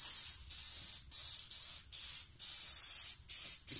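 Clear glue sprayed from a bottle while making a slim-line kitchen worktop, heard as a run of about eight short hissing bursts with brief gaps between them, close and fairly even.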